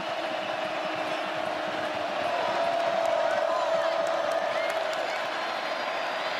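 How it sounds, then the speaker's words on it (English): A college football stadium crowd roars on third and long in a Texas Tech at TCU game, a steady dense wall of cheering and whooping sustained throughout, with a commentator's voice over it. "listen to this crowd on third and long"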